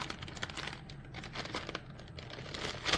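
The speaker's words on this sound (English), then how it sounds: "I know that makes a lot of crinkling noise" Paper and a plastic craft pouch are handled up close, giving continuous soft crinkling and crackling with scattered louder rustles and no talk.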